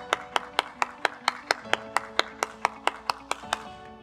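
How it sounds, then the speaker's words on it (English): About fifteen sharp hand claps in a steady, evenly spaced rhythm, close and clear, with a faint tonal music bed underneath and no voices. "then give yourselves an applause"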